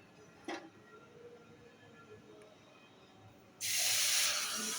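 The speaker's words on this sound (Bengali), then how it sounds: "আমরা গ্যাস বন্ধ করে দুধ দেবো।" Milk hits a hot pan on a gas stove with a sudden loud, sustained hiss and sizzle near the end, after a quiet stretch with a faint brief clatter.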